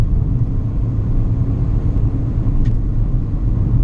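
A loud, steady engine rumble with road and wind noise from inside a 2019 Proton Persona cruising at about 130 km/h and 3,500 RPM on a test track; no one speaks.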